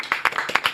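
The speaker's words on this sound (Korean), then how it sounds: "봉지욱 기자님 박수로 맞이합니다." A small studio audience claps to welcome a journalist guest onto a talk show, a brief burst of about half a dozen close, crisp hand claps in quick succession.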